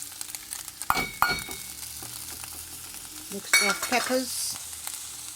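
Peppers and onions frying in hemp oil in a pan, with crackling sizzle and a few sharp stirring clinks, and a louder burst of spitting toward the end.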